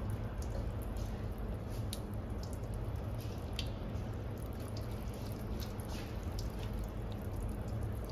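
Continuous hiss of boiling water splashing and running over a Mahindra Scorpio N car's body, steady and close, with scattered drips and spatters throughout.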